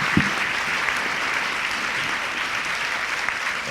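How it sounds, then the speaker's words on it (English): Applause from a conference audience for distinguished panelists at a summit on semiconductor supply chain resilience, a steady dense clapping that fills the room for several seconds without a break. "please give the round of applause for our distinguished panelists"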